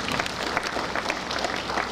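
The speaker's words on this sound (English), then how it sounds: "One last round of applause for our stunt woman" Audience applause for a stunt woman at a Warner Bros Movie World stunt show in Australia, a short burst of many hands clapping steadily at moderate loudness for about two seconds.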